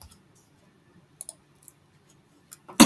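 A computer mouse clicks while navigating a Salesforce integration setup screen, several crisp close clicks in short pairs and singles against near silence.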